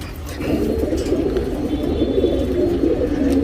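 A female tournament-breeding pigeon coos in a steady, continuous murmur close by, the soft throaty calls running without pause and without any talk.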